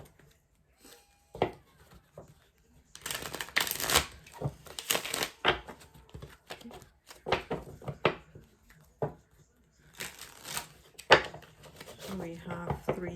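Tarot cards in a pick-a-card reading being shuffled and drawn, giving bursts of crisp riffling and slapping clatter in clusters, close up, with quiet gaps between.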